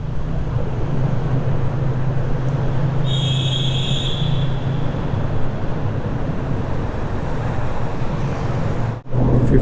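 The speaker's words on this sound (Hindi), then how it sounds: "क्या आवाज़ गूंज रही है अंदर बाइक की।" Steady, loud motorcycle engine drone with a boomy rumble echoing inside a tunnel and wind noise, continuous throughout.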